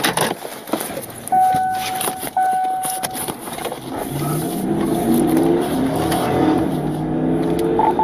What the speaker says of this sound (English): Just revving his engine here.